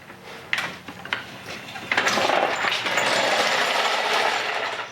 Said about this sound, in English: time to drop this jack and see how she sits